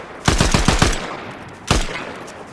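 Automatic gunfire in the video game Fortnite: a quick burst of five sharp shots, then a pause and a single louder shot, close and loud with no talk over them.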